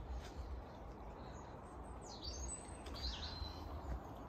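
Birds chirp and tweet faintly around a home, a few thin calls sliding over steady broadband background noise with no voices.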